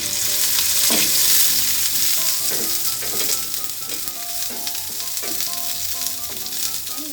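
Ginger and onion sauté in a pan with a loud, steady sizzle, and a utensil scrapes and taps against the pan every second or two, with no voices.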